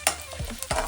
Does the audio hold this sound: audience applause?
no